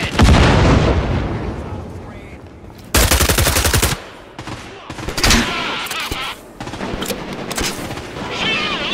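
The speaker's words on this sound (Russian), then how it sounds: "Grenade," A grenade blows up in the PvPvE shooter Caliber on the Radar map, loud booming blasts amid heavy bursts of automatic gunfire, with a voice occasionally heard.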